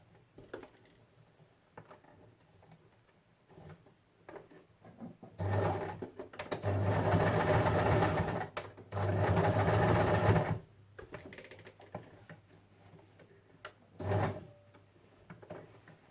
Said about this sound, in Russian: аккуратно пристрачиваю на швейной машинке